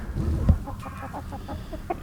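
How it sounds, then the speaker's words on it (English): A Cream Legbar rooster clucks close by in a backyard, giving a short run of quick, throaty clucks in an irregular rhythm, with no speech over it. "So here we've got our cream leg bar rooster."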